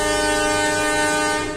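The Blambangan Express passenger train departs Ketapang station in Banyuwangi, sounding a loud, steady horn of layered tones over rail rumble that fades slightly at the end.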